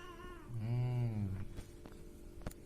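A pet cat lets out one long, low meow close by, followed by soft scattered clicks and handling noises in a quiet indoor room.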